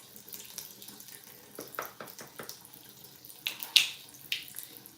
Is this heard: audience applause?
no